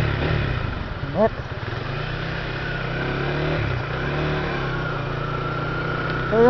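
A motorcycle engine runs steadily nearby, its drone shifting pitch slightly, with a voice talking over it.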